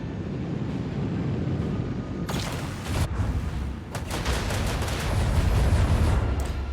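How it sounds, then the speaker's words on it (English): Torpedo batteries on a spaceship in the grimdark Rogue Trader game fire with sharp booming cracks over a deep rumbling engine drone, followed by a rapid cluster of blasts that builds into a loud sustained roar. "one of my many, many torpedo batteries."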